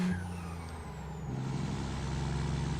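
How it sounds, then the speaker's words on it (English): A heavy truck engine brake in the video game Starfield rumbles with a low, rough drone, steady and close, with a hiss near the start before the engine note deepens. "Jake Break sounds good."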